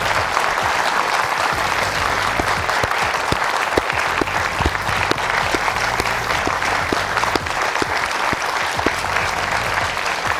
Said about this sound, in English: let's give a big applause to our Prime Minister